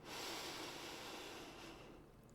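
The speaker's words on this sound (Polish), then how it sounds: "Wdech nosem" A single long, airy breath drawn in through the nose, close to the microphone, soft and steady before fading out.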